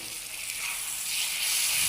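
Ginger and garlic sizzle in hot oil in a pan, a steady close hiss of frying that swells slightly toward the end, with no talk.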